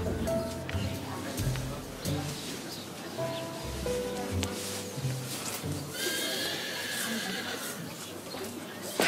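Horses neigh and whinny in the background, joined by some clip-clop of hooves, while people talk over them at moderate distance.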